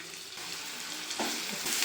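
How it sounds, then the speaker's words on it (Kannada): Chopped onions sizzle and fry in hot oil in a pan for egg rice, a dense, close crackling hiss with a few brief bursts as they are stirred. "ಎಣ್ಣೆ ಕಾದಿದೆ ಈರುಳ್ಳಿ ಹಾಕ್ತಾ ಇದ್ದೀನಿ"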